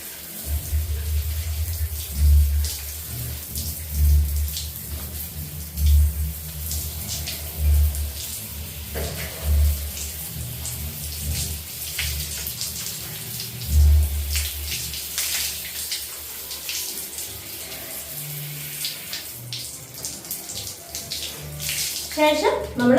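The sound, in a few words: washing hair with poured water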